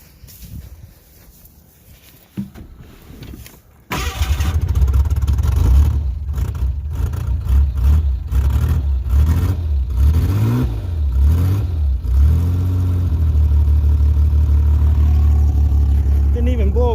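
A Ford Bronco II engine, old and running rough with a weak accelerator pump, starts up after a few quiet seconds and is revved repeatedly in rising and falling surges, loud and close, before settling into a steady drone; a voice speaks faintly early on.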